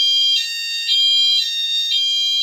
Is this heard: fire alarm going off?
yes